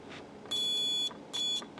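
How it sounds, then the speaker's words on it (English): A volt ohm meter set to continuity gives two clear electronic beeps, the first lasting about half a second and the second shorter, sounding close and loud against a quiet room. "here we have a volt ohm meter, which is currently set on the continuity test, so it'll beep when you touch the probes together"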